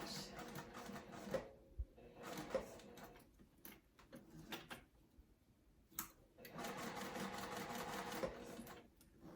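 A sewing machine stitching a quarter-inch seam at 2.5 stitch length with back stitching, running in several bursts of rapid mechanical whirring separated by short pauses, close and fairly quiet.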